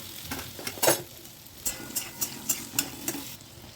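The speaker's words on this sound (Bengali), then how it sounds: "কড়াইতে সামান্য বাটার দিয়ে দেব। একটা মশলা তৈরি করে নেব। তার জন্য প্রথমে পেঁয়াজ কুচি দিয়ে দেব" Chopped onion frying in butter in a kadai, a bright hiss with a quick run of spatula scrapes and clicks against the metal as it is stirred.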